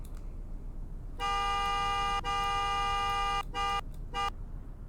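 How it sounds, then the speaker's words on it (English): A 2017 Wolfsburg Tornado car horn in a video game honks: one long blast, then two short toots, over a low engine hum. "Here's what its horn sounds like."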